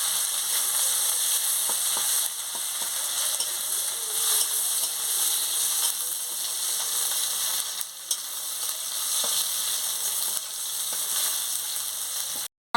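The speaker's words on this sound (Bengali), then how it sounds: "দিয়ে মশলাটাকে ভালো করে আমি ভেজে নিচ্ছি।" Chopped onion, green chili and bay leaves fry with spices in a pan for a magur fish curry, giving a continuous bright sizzle broken by occasional stirring scrapes, close and fairly loud.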